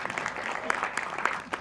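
An audience at a listening evening of the .REC festival applauds a sound engineer, a short, steady burst of many hands clapping at moderate loudness.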